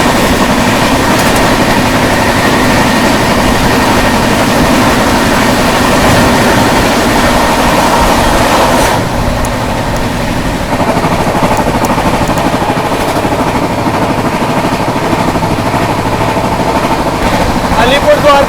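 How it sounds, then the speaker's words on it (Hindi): A Howrah–Kalka Netaji Express train passes close by, a loud continuous rumble of wheels and carriages that stays steady throughout, shifting slightly in tone partway through. "सामने से आ रही है दोस्तों आप लोगों की हावड़ा कालका नेताजी एक्सप्रेस"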